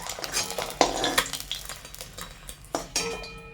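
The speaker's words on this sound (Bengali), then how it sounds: "দেখুন বন্ধুরা ডিমগুলো কত সুন্দর ভাজা হয়ে যাচ্ছে" Eggs frying in hot oil in a pan, a soft sizzle under clinks and scrapes of a utensil against the metal, with a few sharper knocks, close by and without talk.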